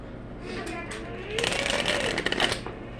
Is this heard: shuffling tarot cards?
yes